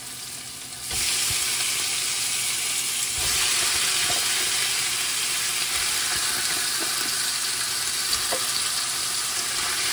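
Onion, tomato and meat brown in a frying pan with a dense, even sizzle that starts suddenly and then swells louder. Faint stirring clicks come through now and then, and no one talks.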